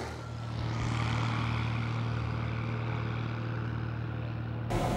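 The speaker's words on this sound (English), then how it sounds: "Okay, glider off the ground again. Tow plane's coming off." A tow plane's propeller engine drones steadily and fairly loud, holding an even, continuous tone throughout as it pulls and releases a glider, with no talking.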